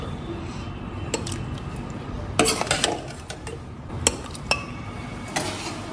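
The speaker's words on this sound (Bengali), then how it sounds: "তাই প্রেশার কুকারে ঢেলে নিচ্ছি।" Cooked mutton curry with potatoes is scraped and poured into a pressure cooker, with scattered metallic clinks of a spoon against pots and faint background noise and a voice or two in the distance.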